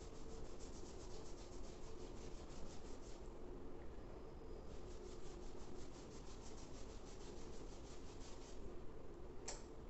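A Korean body scrub sponge rubs back and forth over skin in a fast, even scrubbing rhythm, close and soft, continuing without pause and with no talking.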